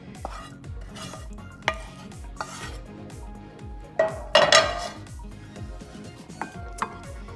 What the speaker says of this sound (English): I'm gonna put the corn in a bowl